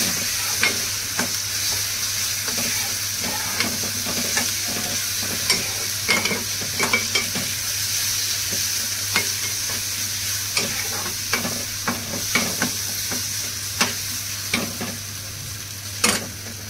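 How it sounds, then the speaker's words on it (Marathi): Ground masala paste sizzles steadily in a pan for a wet cashew curry, with a continuous frying hiss punctuated by regular clinks and scrapes of a stirring spoon close by. "आपण याच्यामध्ये वाटण घालून घेऊया. मस्त असं भाजून घ्यायचं."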